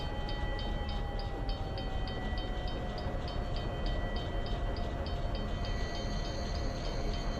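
An Alco S-2 diesel switcher locomotive in a Train Simulator 2016 Springfield Line scenario drones steadily at low revs, with a faint repeating clicking and a long, slowly falling whine over the engine, no voices.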